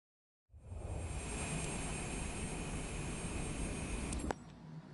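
A steady airplane engine roar from Microsoft Flight Simulator 2024 holds loud and constant after a sudden start, with a sharp click-like transient near the end.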